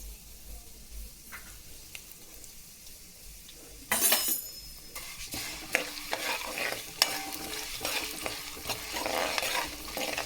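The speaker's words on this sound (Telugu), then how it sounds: "నూనె పెట్టాను, ఇదిగోండి తిరమత వేస్తున్నా." Spices for tempering sizzle in hot oil as they are stirred in a pan while making a chutney. A quiet hum opens the clip before a sudden loud sizzle bursts in, followed by scraping stirs and light utensil clinks against the crackle.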